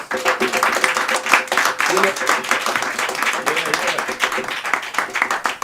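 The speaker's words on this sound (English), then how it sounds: "So let us give our President General a strong round of applause." Applause at a Harlem parade gathering celebrating the Battle of Adwa victory, with a crowd clapping for the President General; dense clapping runs throughout, mixed with voices and some tonal background sound.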